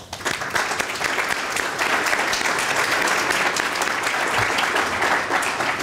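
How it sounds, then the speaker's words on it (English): Sustained audience applause in a meeting room for community advisory group members at a Metro Transit event, a full, even roar of many hands clapping throughout. "We'd like to give you a round of applause."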